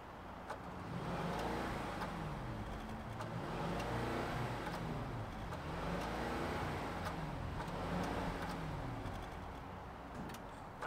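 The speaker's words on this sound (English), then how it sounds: "Let's fire it up and hear the growl of this 4-liter twin turbo V8." A 2021 Mercedes-Benz S580 with a 4-liter twin-turbo V8 idles and runs with a steady, close engine drone, rising and falling in slow waves of revving across the whole stretch.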